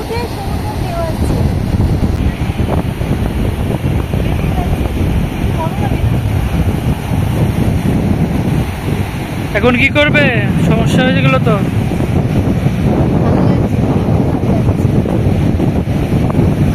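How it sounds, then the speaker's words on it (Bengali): Loud sea waves break on a beach under strong wind, a constant roaring wash with wind buffeting the microphone, and a few people talk briefly partway through. "পুরীতে যেরকম বড় বড় ঢেউ উঠে, সমুদ্র ঢেউ আসছে।"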